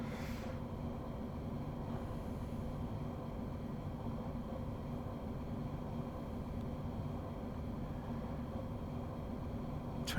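A train in Train Sim World 5 on the Köln–Aachen line passes as a low, steady, fairly faint rumble running evenly throughout, with no one speaking.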